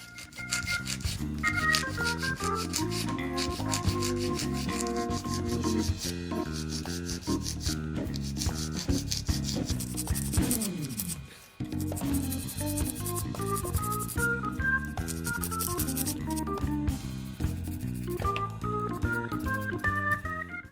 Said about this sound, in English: I'm using an 80 grit nail file. I'm just gonna go in on each side.